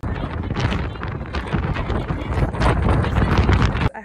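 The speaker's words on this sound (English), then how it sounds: "It was so windy. I think the winds were like 40 miles an hour, no joke, they were nuts." Strong gusts of roughly 40 mph buffet the microphone outdoors at a soccer field, a loud, continuous rumbling roar that cuts off abruptly at the end.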